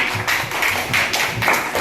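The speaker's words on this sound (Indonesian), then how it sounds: "Tepuk tangan." Clapping from a classroom of students during a teaching session, a loud, close burst of many hands with a rapid rhythm, steady for the whole moment and with almost no talk over it.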